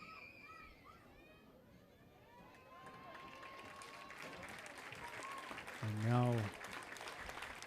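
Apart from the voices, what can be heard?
applause from both teams' fans at a baseball game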